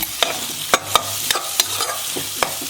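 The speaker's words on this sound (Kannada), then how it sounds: "ಈರುಳ್ಳಿ ಟೊಮೆಟೊ ಚೆನ್ನಾಗಿ ಫ್ರೈ ಆಗಿದೆ." Onion and tomato fry in a pan for spinach palya while a spoon stirs them, making a quick series of sharp scraping knocks over a low, steady sizzle.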